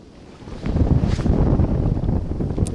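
Strong side wind buffeting the microphone while spin fishing for pike from the shore, a loud, low, rumbling roar that swells after a moment and keeps gusting throughout.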